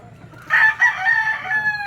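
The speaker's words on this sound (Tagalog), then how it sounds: "Tapos dito nakalatag yung manok natin guys" A rooster crows loudly nearby, a long drawn-out call starting after a quiet moment, with a few clucking notes mixed in.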